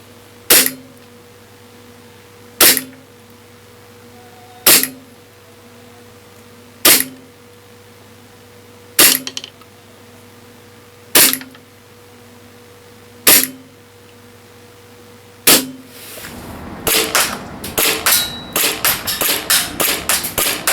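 An EMG BLU Compact gas blowback airsoft pistol fires 0.2 g BBs on green gas in cold weather: eight loud, sharp, evenly spaced cracks about two seconds apart, then a rapid string of quicker shots at the end.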